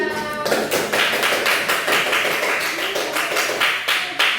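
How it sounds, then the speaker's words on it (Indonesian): Classroom applause fills the room, many hands clapping loudly and continuously in a dense, even patter from near and far, with no voices over it. "Give applause to Masya."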